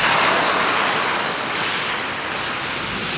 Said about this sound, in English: When you see that water beat up like that, you know it's hot and it's at the right temperature to start cooking.